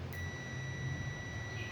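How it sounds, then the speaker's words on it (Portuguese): A clamp meter set to continuity mode beeps while a refrigeration pressure switch is tested, giving one steady, unbroken electronic tone over a low background hum for the whole moment. "bipando normalmente"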